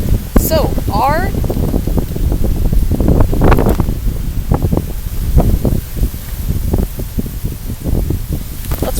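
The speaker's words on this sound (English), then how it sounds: "It's so windy out here" Gusty outdoor wind buffets the microphone in loud, uneven bursts, with a person talking over it.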